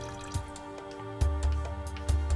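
A model dinosaur is lowered into a container of water, giving a few sharp drips and soft watery plops at close range, quiet and without talk.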